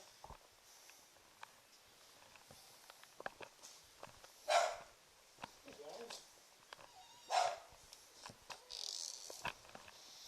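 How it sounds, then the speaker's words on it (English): Dogs indoors in a house give two loud barks a few seconds apart, with fainter whines and movement between them and people talking quietly nearby. "baby's room, the dogs won't bark as much"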